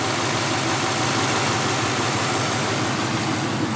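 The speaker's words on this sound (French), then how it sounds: "Le moteur est très doux, très silencieux." A 1953 Ford two-door sedan's engine idles smoothly and quietly, with a steady, even low hum holding continuously and close by, its exhaust slightly perforated, with no voices over it.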